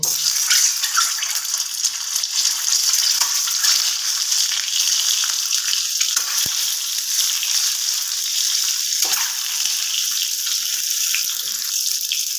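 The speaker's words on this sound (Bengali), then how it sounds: "কড়ার মধ্যে দিয়ে দেব একটু হলুদ গুঁড়ো যাতে করে না ডিমগুলো ছিটে আসতে পারে তো এবার আমি ডিমগুলোকে দিয়ে দেব" Boiled eggs frying in a pan with turmeric, a steady, fairly loud hiss and crackle of hot oil throughout, with a few faint clinks and stirring knocks.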